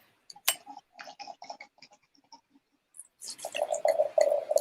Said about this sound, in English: it sounds good pouring in there, don't it?